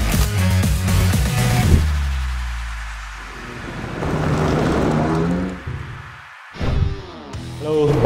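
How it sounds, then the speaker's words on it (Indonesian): Thunder rumbles through afternoon rain at the start of the rainy season, heavy and close, with a wash of rainfall and a few muffled voices in between. "mulai gerimis, mulai hujan"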